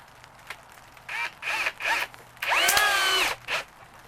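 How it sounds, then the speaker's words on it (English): Power drill driving decking screws down into wooden greenhouse door framing, several short whirring bursts then a longer strained run as a screw seats, loud and close with no speech. "What I usually do is screw from the top on the outside straight"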